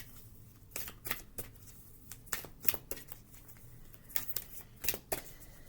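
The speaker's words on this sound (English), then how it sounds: "So just shuffling this big deck," A large Faery Oracle card deck being shuffled by hand, giving close, soft riffling bursts and flicks in an irregular rhythm over a quiet background.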